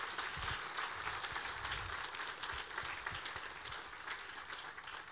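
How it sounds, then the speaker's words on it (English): An audience at an economic forecast talk applauds, a steady dense patter of many clapping hands filling the whole stretch at moderate distance, with no speech over it. "So let's give Chris Thornberg a round of applause, everybody."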